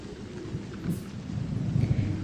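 Rain falling with low rumbling thunder rolling underneath, a steady wet wash that swells louder toward the end, no voices.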